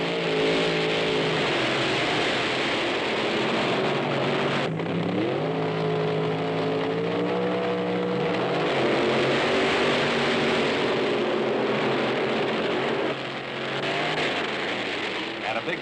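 Hot rod drag racing car roaring down the strip, its engine note rising through several revving surges as it accelerates, loud and continuous with a rough mechanical edge.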